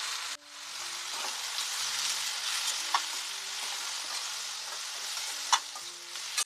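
Brinjal pieces fry in a pan, giving a steady, moderately loud sizzle with a few crackling pops. Faint tonal hums play quietly beneath.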